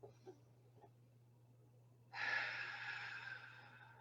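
A single deep inhaled breath taken slowly, a soft airy rush that swells and holds over a quiet background hum, preceded by a few faint small sounds.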